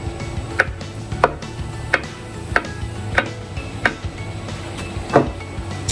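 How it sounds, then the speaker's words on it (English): A knife slices a banana into thin slices on a cutting board, giving nine crisp, evenly spaced taps about every two-thirds of a second over a low background hum. "I'm going to slice the banana into 1/8-inch thick slices"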